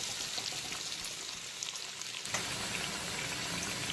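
Potato pieces deep-frying in oil in a kadai over a full flame, a steady dense sizzle and bubbling that carries on evenly, close and moderately loud, with no one talking.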